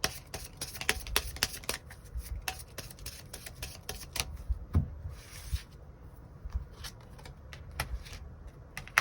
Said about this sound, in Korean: 카드 뽑아보도록 하겠습니다